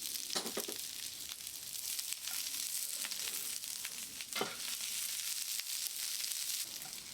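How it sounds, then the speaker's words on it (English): Onions and peppers sizzle in hot oil in a pan while street hot dogs are being made, a soft continuous frying hiss with occasional sharper crackles and clicks, faint and alone. "Put in my pan, fill a little bit of oil, let it heat up, and drop in our onions and peppers."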